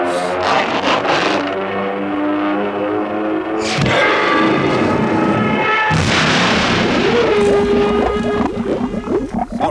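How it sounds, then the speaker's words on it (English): Cartoon banana-seeking torpedoes launch and explode in a dense barrage of booming blasts and whooshing roars. Loud, layered impacts follow in quick succession, with a rising whistle near the end. "I shall now fire my banana-seeking torpedoes, and it will be bye-bye,"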